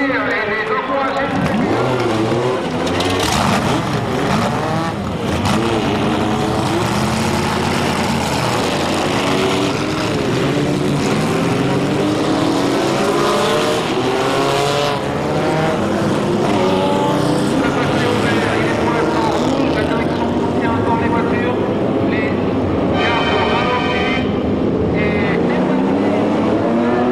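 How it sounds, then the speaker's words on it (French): Fifty-two historic racing cars launch together at the Paul Ricard circuit in Le Castellet, engines howling and rising in pitch as they pass close by, a loud, dense roar layered with revving, while a commentator talks over it. "52 véhicules historiques de course viennent de s'élancer, moteur hurlant, sur le circuit Paul Ricard du Castellet."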